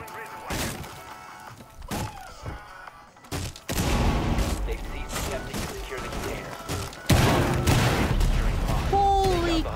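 Gunfire and impacts in Rainbow Six Siege, scattered bursts of shots with thuds and breaking surfaces mixed with game effects, while a player talks over them.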